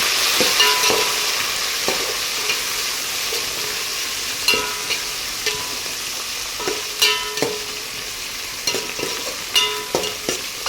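Coriander leaves are stirred into bagara rice in a hot pan, with a continuous sizzle under repeated close spatula scrapes and knocks at irregular intervals, no talk.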